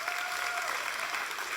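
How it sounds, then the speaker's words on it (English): An audience breaks into steady, sustained applause, a dense wash of clapping hands from a crowd that holds evenly without a voice over it. "Give these folks a round of applause."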